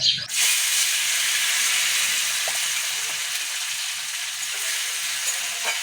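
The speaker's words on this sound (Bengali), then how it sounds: "টমেটো কুচিটা দিয়ে দিচ্ছি" Chopped tomato hits hot oil in a kadai already holding bay leaf, whole cumin, dried red chilli and whole garam masala, bursting into a loud, steady sizzle that keeps hissing evenly throughout with no voices.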